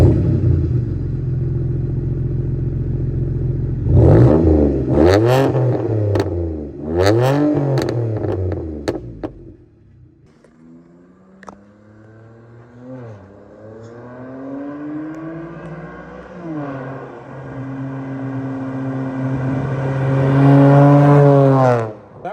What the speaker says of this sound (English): it's just a simple muffler delete, and it actually sounds good. It gets the crackles.